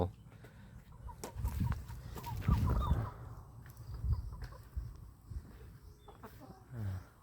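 A small flock of five backyard chickens clucks in low, soft bursts close by, with a voice speaking now and then.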